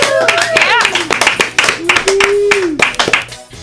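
Audience applause on a music show, sharp hand claps scattered through the stretch, mixed with loud overlapping voices and cheering close by.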